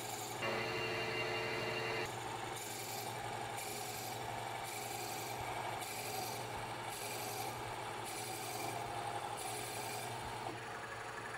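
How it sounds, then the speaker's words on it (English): A drill grinds steadily into a wood block with a rasping, rubbing tone, pulsing in regular bursts over a constant low motor hum. "we're going to drill right in until we reach that tape"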